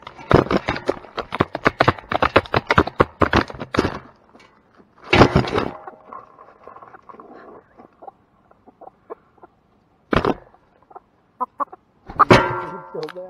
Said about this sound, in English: Wow, chickens, wow.